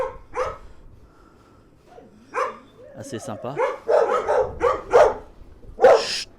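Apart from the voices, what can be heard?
neighbour's dog barking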